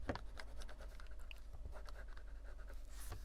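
Stabilo Woodies colored pencils colored heavily in purple across music paper, giving a close, continuous soft scratching and rubbing of waxy pencil strokes with small irregular taps.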